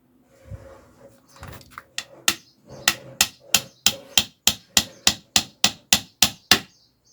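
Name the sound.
hammering a nail through metal sandwich roof panel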